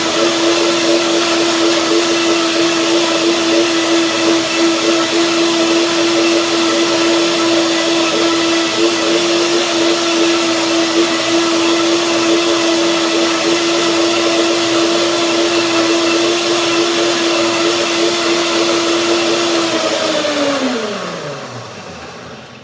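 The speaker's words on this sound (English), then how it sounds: "So this is the first blending." A blender whirs at high speed through macadamia nut mayonnaise, a loud, steady whine that holds for about twenty seconds before winding down and stopping.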